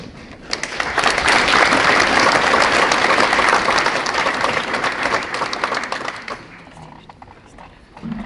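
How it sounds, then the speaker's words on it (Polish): Audience applause at an award gala for the Laurels of Cieszyn Land, loud sustained clapping from a large hall crowd that swells quickly, holds, then tapers off toward the end. "Brawa wskazane w każdym momencie, proszę Państwa."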